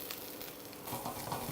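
Carrots frying in a hot pan for sweet and sour pork, a close continuous sizzle that swells slightly with stirring over a short stretch, no talk.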